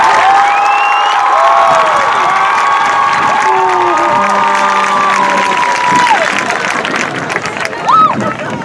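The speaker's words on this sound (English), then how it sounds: "Ladies and gentlemen, please give a round of applause for this row of red." A graduating high school class of 2023 at its commencement ceremony draws a loud, sustained roar of crowd cheering, shouts and whistles with applause mixed in, steady for several seconds before easing slightly near the end.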